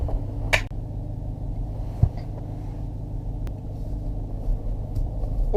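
A 2018 Jeep Grand Cherokee Trackhawk with a 707-horsepower engine rumbles low and steady from inside the cabin as it backs out on icy roads, with a couple of faint knocks and clicks over the drone and no speech.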